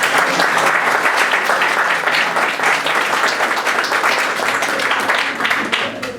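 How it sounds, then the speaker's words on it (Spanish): An audience at a conference applauds steadily, a dense wash of many hands clapping at an even level for several seconds with no voices standing out. "Aplausos, aplausos."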